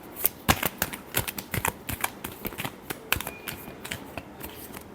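Tarot cards shuffled by hand in a rapid run of crisp riffles and slaps, close and fairly quiet, with no talking.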